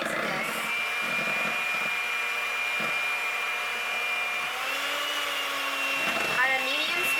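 Electric hand mixer whipping chickpea syrup with cream of tartar in a bowl, a steady high-pitched motor whine that holds evenly, dips briefly and then rises again near the end.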